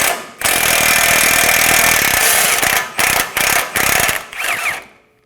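A ratchet with a 17mm socket works loose a front suspension bolt on a 2017-2024 Nissan Armada, a loud continuous whirring rattle that breaks into several short bursts before stopping.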